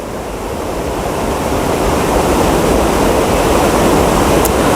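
Fast-flowing water rushes over a check dam at Mini Baldiha, a loud, dense, continuous roar that swells slightly and stays steady and close throughout, with no voices.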